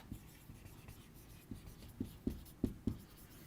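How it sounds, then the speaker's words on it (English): Pen or marker writing notes on a board during a poetry lesson in a classroom, a run of soft scratchy taps and strokes that grow slightly firmer toward the end, close and fairly quiet with no talking. "so I'm just writing it here"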